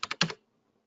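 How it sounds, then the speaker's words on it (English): Four quick taps on a computer keyboard come close and distinct, with the last two run together, then silence follows. "And then you can type in sizes."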